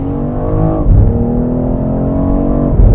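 A 2023 BMW X3 M Competition in Sport Plus mode revs hard and accelerates, its engine roaring loud and close with rising pitch and a brief dip as it shifts gear.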